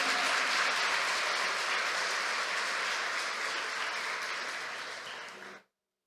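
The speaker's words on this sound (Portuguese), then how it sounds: "Se você crê, aplauda ele aí em nome de Jesus." A church congregation applauds steadily during a sermon, a dense wash of clapping that holds for several seconds, then fades slightly and cuts off abruptly.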